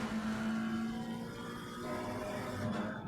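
A McLaren race car engine in Assetto Corsa Competizione, a sustained droning engine note holding steady with a slight rise near the end, moderately loud with no voices.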